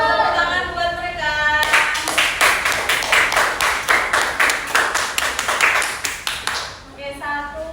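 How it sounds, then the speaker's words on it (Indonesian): A group of children in a classroom clap together in a quick rhythmic pattern of sharp, evenly spaced claps, with a voice speaking briefly before and after. "Tepuk tangan buat mereka."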